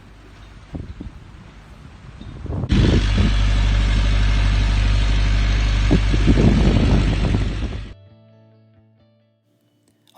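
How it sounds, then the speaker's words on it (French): A sailboat's engine, run for the first time on the Kamouraska River, roars loudly and steadily for about five seconds over wind noise, then cuts off abruptly into near silence. "on a testé notre moteur pour la première fois"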